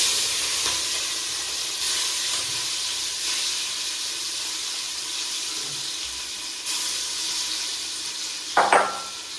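Continuous loud sizzling and hissing of garlic and chili paste frying in hot oil with carom seeds, close up, with a brief clatter near the end.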